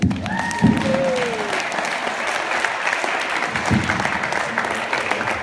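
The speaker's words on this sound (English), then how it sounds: "So round of applause, please, for them." A crowd claps at a magazine launch party, with a sustained, even wash of applause; a couple of brief whistles or voices rise near the start.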